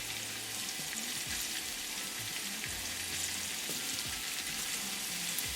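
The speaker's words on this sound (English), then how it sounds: "As the oil starts to heat up, add ginger and garlic. Cook ginger and garlic for 20 seconds." Ginger and garlic fry in heating olive oil, a steady, fairly loud sizzling hiss that runs unbroken, with faint low tones underneath and no talking.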